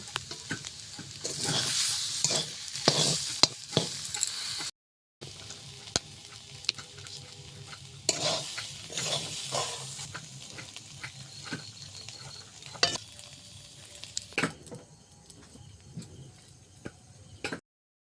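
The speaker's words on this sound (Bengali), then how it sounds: "শাক ভাজাটা আমার হয়ে গেছে" Bathua greens stir-fried in a pan, with a spatula scraping and tossing them in repeated bursts over a steady soft sizzle, near and clear with a short pause partway through and no voices.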